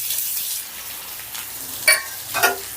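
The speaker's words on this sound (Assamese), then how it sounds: "ইয়াতে মই কাটি থোৱা পিঁয়াজখিনি দি দিছোঁ" Chopped onions drop into hot mustard oil already crackling with panch phoron, giving a steady close sizzle with two sharp crackling bursts near the end.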